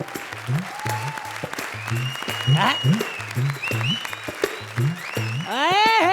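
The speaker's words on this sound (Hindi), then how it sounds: "जोरदार तालियां" A studio audience at a televised comedy show claps loudly and continuously, the applause mixed with music and lively voices.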